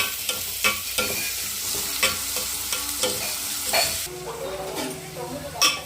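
Onions frying in a pan with green chillies, a constant dense sizzle broken by repeated spatula scrapes and stirs, close up and fairly loud throughout.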